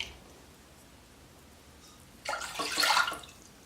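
Water is poured into a pressure cooker holding jaggery syrup, a brief splashing gush that rises and fades after a quiet start.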